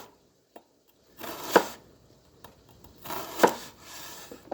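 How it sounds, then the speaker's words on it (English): Knife chopping shallots on a cutting board for penne alla vodka: two clear, crisp blade strikes a couple of seconds apart, each with a short scraping tail, close and moderately loud with no talking. "just give them a rough chop"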